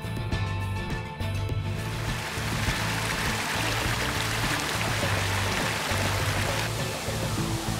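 The waterfall at Wasan Hutuni, in the forest of Central Maluku, gives a steady, dense rush of falling water that fills the whole stretch, alone and close.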